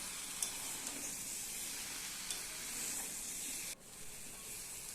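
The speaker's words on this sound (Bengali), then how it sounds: "এবার সব একসাথে ভালো করে মিক্সড করে কষিয়ে নেব" Jackfruit and prawns sizzle steadily in a hot pan while being stirred and sautéed together for a Bengali dish, with a continuous frying hiss and occasional scraping.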